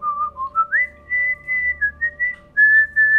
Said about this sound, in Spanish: A través de silbido, ¿no?